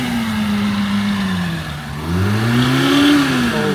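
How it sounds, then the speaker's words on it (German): A running Opel Manta GSI engine, rough and overheating, swells in pitch as it is revved up, dips, then climbs again in a drawn-out rev close by, with no talking. "Der Motor klingt wie Scheiße auf jeden Fall."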